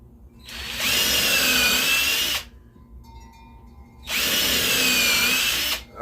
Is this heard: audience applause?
no